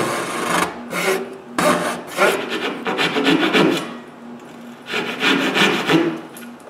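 Hand saw cutting a wooden dovetail, close and clear rasping strokes in uneven bursts with brief pauses between them, no talking.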